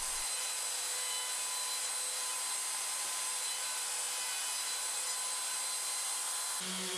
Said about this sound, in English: I used a chamfer bit in the router just to cut the edges off